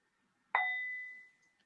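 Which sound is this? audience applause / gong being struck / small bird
gong being struck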